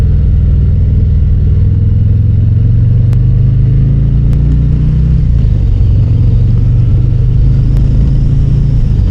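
Steady mid-pitched rumble of a 2025 Harley-Davidson Fat Boy Gray Ghost ridden in second gear through a turn, a loud continuous engine drone with a slight shift in tone midway and no talk over it.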